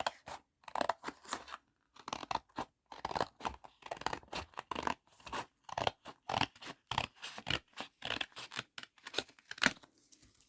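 Scissors cutting through card, a close run of crisp snipping strokes in a fairly regular rhythm with short gaps, each cut a rasping crunch, with no talking over it.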